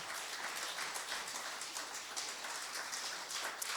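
A church congregation applauding, a steady wash of many hands clapping together at moderate distance, sustained evenly for several seconds with no voices standing out.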